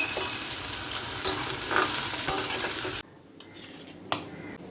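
Small prawns frying in a pan for a ridge gourd mash, a steady close sizzle with stirring and utensil scrapes that cuts off abruptly, leaving quiet with a few faint clinks.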